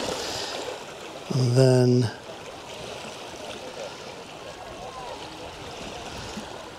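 Steady rushing of a stream flowing around rocks in an outdoor landscape, a continuous close wash of water, briefly interrupted by a short voice near the start.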